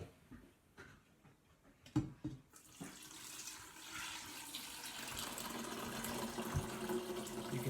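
Liquid whey poured into a strainer while making fresh goat cheese, a continuous close splashing and trickling stream that starts after a few soft handling knocks and grows steadily louder.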